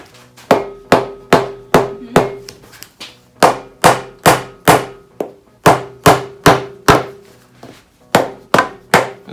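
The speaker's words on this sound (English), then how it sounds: "Just gonna whack it loose and break the seal." A rubber mallet strikes a part on a Chevrolet 305 engine during a teardown, knocking it loose to break the seal. About twenty loud, close, dull thwacks come in quick bursts with short pauses.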